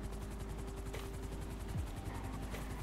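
A helicopter landing in GTA, with steady rapid rotor chopping and engine drone filling the whole stretch, close and loud, with a brief whine shifting partway through.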